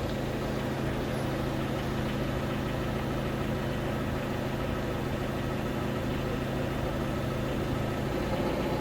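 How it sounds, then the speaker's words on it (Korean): A forklift's LPG engine runs after its coolant temperature sensor has been unplugged, giving a continuous close-up mechanical drone with a low hum and a fairly even level. "이렇게 냉각수 온도 센서를 빼면은 엔진 RPM이 지금 헌팅을 하면서 에러 코드가 뜨게 되죠"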